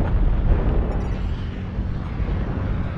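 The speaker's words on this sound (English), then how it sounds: "Target spotted. Artillery strike activated." A video game artillery strike produces a heavy, rumbling explosion that hits loudly at the start and then rolls on as a continuous low roar and debris noise.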